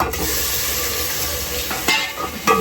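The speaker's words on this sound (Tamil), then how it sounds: "ஃபுல்லாகவே வெங்காயம் வதங்கிடுச்சு" Onions sautéing in a pan, a steady close sizzle with occasional stirring scrapes near the end.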